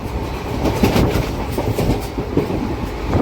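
Express train from Secunderabad to Repalle running at speed, a steady loud rumble of wheels with rhythmic clickety-clack over the rail joints, heard from inside the coach with no voices.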